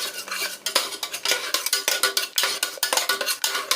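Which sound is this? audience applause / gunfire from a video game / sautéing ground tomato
sautéing ground tomato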